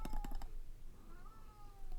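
A pet cat meows faintly in the background with a drawn-out, wavering call, after a few quick tapping clicks at the start, all quiet and at a distance.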